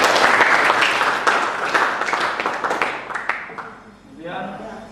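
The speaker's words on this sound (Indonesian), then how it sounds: "terima kasih buat semuanya tepuk tangan" Students in a classroom break into loud, dense applause that holds steady for several seconds, then thins and fades out near the end.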